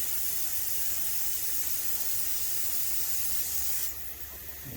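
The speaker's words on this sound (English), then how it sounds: "it does just flow really well right out of the airbrush." An airbrush sprays Cobra Motor Paints satin black onto a model car interior, a steady close hiss that drops off sharply near the end as the trigger eases, with no talk.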